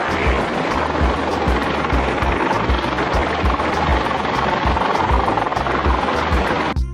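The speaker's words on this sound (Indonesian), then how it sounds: "Ini adalah pesawat atau helikopter polisi." A toy police helicopter gives a steady, loud, continuous whirring drone with a regular rotor-like pulse that holds unbroken for the whole stretch.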